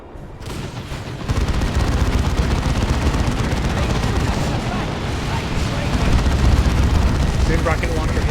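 Rocket launchers hit Chosen Marines in the Dawn of War 2 Elite Mod, a dense, continuous barrage of loud explosive booms and gunfire with no pauses.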